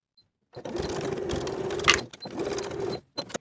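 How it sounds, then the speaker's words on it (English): A sewing machine stitches a crease in a belt bag in two close, steady runs of rapid mechanical whirring, separated by a short pause and followed by a couple of brief clicks. "Sew in the crease from top to bottom"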